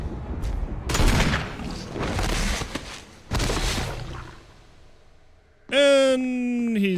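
Gunfire in the Resident Evil remake video game: several loud bursts of shots in quick succession, pausing between volleys, followed by a sharp rising tonal game sound at the end.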